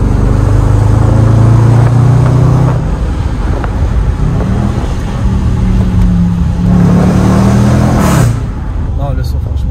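Range Rover Sport SVR engine revving loudly while driving, a deep steady roar with rising and falling pitch sweeps, close and continuous under talk throughout.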